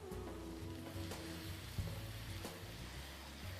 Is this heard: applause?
no